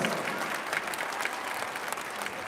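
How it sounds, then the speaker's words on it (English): An indoor audience at a school district arts showcase applauds a high school pep band, with dense, steady clapping that fills the room at a moderate level. "can we have a round of applause for our high school pep band as well?"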